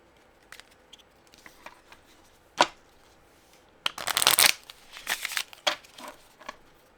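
A deck of cards is shuffled by hand: a quiet rustle, one sharp snap, then a dense riffle burst followed by softer shuffling crackles, close and with no one speaking.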